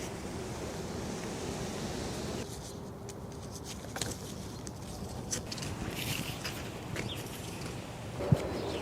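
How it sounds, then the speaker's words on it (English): Strong wind blows steadily outdoors in a garden where seedling beds are being fitted with hose irrigation, a broad continuous rush with a few faint knocks and bumps, and no speech. "it's super windy"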